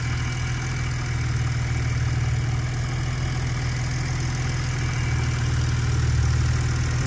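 A 1986 BMW 635 CSi automatic E24 idles steadily, its straight-six giving a constant, loud, even low rumble with a faint high whine above it throughout.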